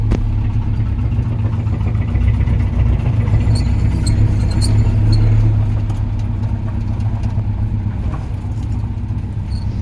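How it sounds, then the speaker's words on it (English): A small off-road vehicle engine with a manual choke and a low-quality carburetor idles steadily and close by, a continuous low rumble with light metallic jingling partway through. "this thing has a hard time idling sometimes"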